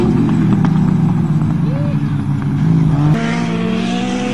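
Japanese tuner cars racing, including a Talon 2-liter and an automatic Corolla, engines droning and revving loudly with rising pitch as they accelerate, under someone talking.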